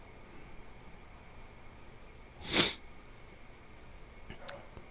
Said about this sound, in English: So just a little bit of the sniffles from my hay fever.